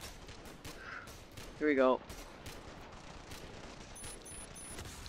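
Rapid gunfire from a gun in the video game Ravenfield, a steady dense crackle of shots under game noise, with a brief voice speaking partway through.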